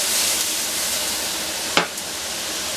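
Shrimp frying in hot oil in a pan with salt and pepper, a loud steady sizzle and hiss throughout, with a brief sharper spatter near the end.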